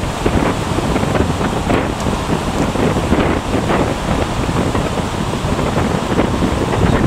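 Wind gusting across an outdoor shooting course, heavy buffeting roar on the microphone that stays loud and steady throughout, with no voices.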